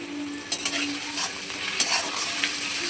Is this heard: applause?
no